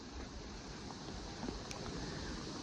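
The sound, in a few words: strong wind blowing across snow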